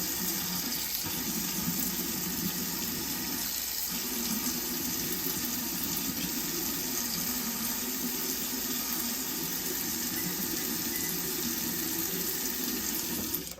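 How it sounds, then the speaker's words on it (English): Tap water runs steadily into a container for fresh water, a continuous even splashing rush that stays loud and unbroken throughout. "We're going to fill that up with fresh water again"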